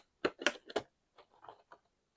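Small scissors snipping around a pencil line on card, a few quick close crisp cuts followed by softer, fainter snips, with no talking.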